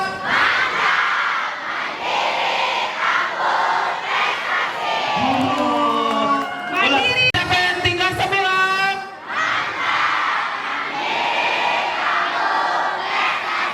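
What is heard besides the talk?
schoolchildren clapping and cheering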